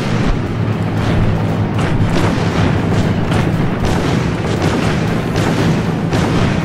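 Continuous loud booming blasts and rapid gunfire from the Paper Mario: The Origami King video game, dense and relentless throughout with no talking over it.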